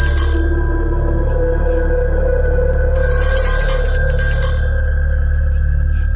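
A prison warden's bell rings as a sound effect, bright metallic rings starting and stopping in two bursts over a steady low eerie drone.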